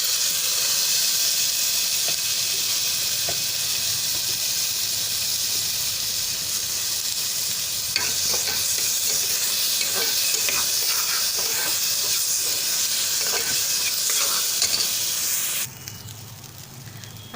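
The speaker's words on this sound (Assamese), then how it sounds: "পিঁয়াজখিনি ভজা হৈ গ'ল, তেতিয়াহ'লে মই দালি আৰু চাউলখিনি মই ইয়াতে দি দিম।" Onions fry in a pan with a steady, loud sizzle, then lentils and rice go in and are stirred, bringing scraping and clinking against the pan before the hiss drops off sharply near the end.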